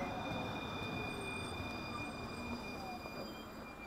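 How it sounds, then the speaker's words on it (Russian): A new tram pulling into a stop in Tallinn, its steady rolling rumble and thin wheel squeal running close and continuous, slowly easing off toward the end. "Ну вот, подъезжает этот трамвай."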